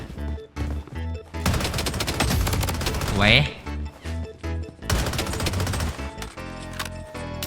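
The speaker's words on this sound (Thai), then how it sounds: "ได้ยินเสียงคนยิงกันแถวนี้" Rapid bursts of gunfire in the mobile FPS battle royale game Project: BloodStrike crack repeatedly at close range, with an explosion-like whoosh midway, and someone speaks briefly in Thai over the shooting.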